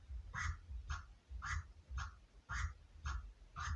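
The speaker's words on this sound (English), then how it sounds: "this is exactly what a chirp scratch is going to look like" Rhythmic chirp scratches on a Serato DJ turntable setup, seven even, quacking cuts about half a second apart, each a short nasal chirp, quiet and alone.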